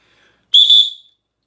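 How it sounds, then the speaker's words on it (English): An Acme tornado whistle gives one short, piercing blast of about half a second that rises sharply and then trails off, loud and alone against silence. "So here's this Acme tornado whistle. These things are super loud."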